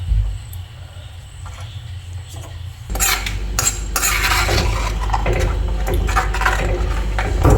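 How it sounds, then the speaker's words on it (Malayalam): Kurukku kaalan being stirred in a pot with a utensil, clinking and scraping against the metal with bright clattering strokes after a quiet start, continuing steadily and fairly close. "നമുക്കിതൊന്ന് ഇളക്കി കൊടുക്കാം"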